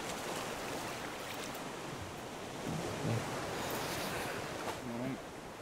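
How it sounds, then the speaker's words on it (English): Big ocean waves wash continuously in the survival video game Raft, a broad rushing surf roar with wind, while faint voices briefly sound beneath it. "I'm gonna fall off because of the big waves."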